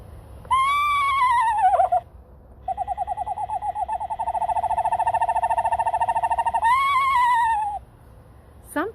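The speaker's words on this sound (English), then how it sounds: "How about the screech owl, the little tiny screech owl? In my mind, it doesn't sound anything like an owl." A tiny screech owl gives a whinny-like call. A high descending wavering trill is followed by a long, fast, even tremolo and then another descending trill, clear and close against quiet.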